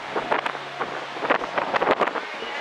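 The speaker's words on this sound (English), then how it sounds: "It's so windy out here." Strong wind at a Miami beach buffets the microphone in loud, uneven gusts and rumbling rushes that carry on throughout.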